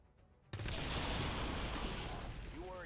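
A tank blows up in the video game XCOM 2: a sudden loud, sustained blast of gunfire-like crackling and rumble that bursts in after a quiet moment and holds for a couple of seconds, with a faint voice at the end.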